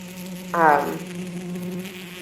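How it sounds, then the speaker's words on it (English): An insect buzzes steadily as background ambience during a tabletop roleplaying game session, with a louder, brighter swell of buzzing about a quarter of the way in before it settles back to a constant drone. "So, Fertile, you can still hear that buzzing, and it's definitely not quieted down any."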